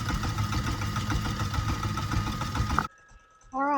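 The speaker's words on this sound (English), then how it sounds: "now we're just going to turn this KitchenAid on and let it do its job" A KitchenAid stand mixer churns goat butter with a steady, busy motor whir and rhythmic beating. It stops abruptly near the end, followed by a brief quiet hum, then a voice starts talking.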